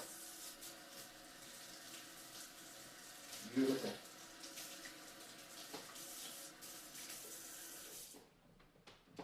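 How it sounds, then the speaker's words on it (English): Hot tap water runs steadily into a sink while hands and a knife are washed, with a brief splashy surge partway through before the flow stops. A voice speaks briefly over it. "Wash my hands and my knife with some hot soapy water."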